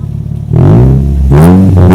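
Toyota Corolla fitted with an HKS exhaust, idling briefly before two loud, close revs that rise sharply in pitch, with a deep, throaty exhaust note.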